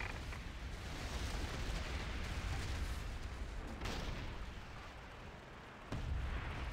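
Torpedo rockets explode on ships in World of Warcraft's Mists of Pandaria Remix, a rumbling wash of blasts and booms at moderate volume, with a fresh impact near the end.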